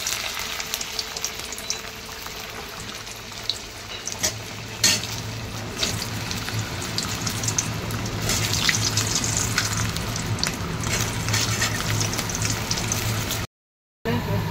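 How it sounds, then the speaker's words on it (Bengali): Potatoes frying in hot oil for a Bengali Sunday meal, a steady close sizzle with bursts of crackle throughout, no voices. "আলুগুলোকে ভেজে নিই।"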